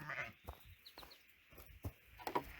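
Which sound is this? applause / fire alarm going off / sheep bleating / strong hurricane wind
sheep bleating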